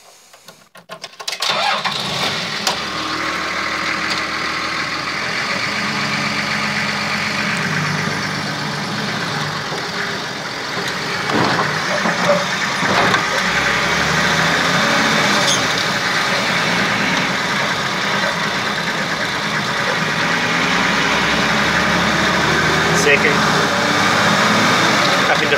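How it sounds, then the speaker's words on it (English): Toyota HJ45 Land Cruiser with a newly fitted engine starts, then runs steadily throughout a first drive, a continuous loud mid-range engine drone with shifts in pitch as it pulls away and changes gear. "Let's go for a drive, Mitch."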